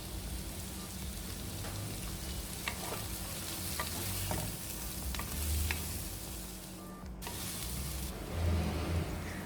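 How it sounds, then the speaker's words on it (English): Garlic, ginger, chopped celery and sausages sizzle in a pan for Nigerian coconut fried rice, a soft steady crackle broken by several spatula clacks and scrapes as the mix is stirred, fairly faint, no speech. "stirred and cooked up our sausages for about 3 to 4 minutes"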